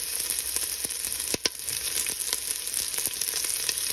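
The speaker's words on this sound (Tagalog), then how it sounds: "Lagyan naman natin ngayon guys yung sibuyas." Onions frying in a pan for a ginataang tilapia dish give a steady close sizzle with a few sharp clinks and stirring taps, no voices.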